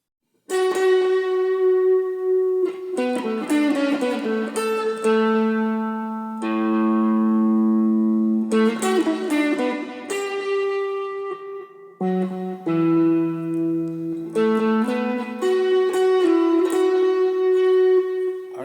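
An electric guitar plays a slow, sustained melodic phrase alone, with clean ringing notes bending and gliding between pitches.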